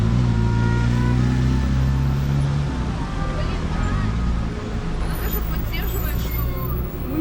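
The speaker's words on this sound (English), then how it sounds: "Bus going past on my left." A bus drives past on a busy Moscow street on a Thursday evening, its deep engine rumble loud and close at first, then fading into steady traffic noise and the murmur of a crowd.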